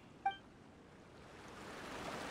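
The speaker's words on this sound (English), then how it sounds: "the sound of water makes you fall asleep" Flowing water ambience in the video game Genshin Impact, a soft, steady wash of running water that swells slightly over a couple of seconds, following a brief chime-like tone near the start.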